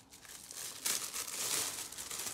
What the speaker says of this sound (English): I just wanted to unbox it and see what was inside